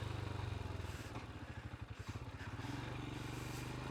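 A Royal Enfield Himalayan 411 motorcycle rides off-road with a steady, loud engine thrum up close, its pulsing firing rhythm rising and falling with throttle over rough terrain.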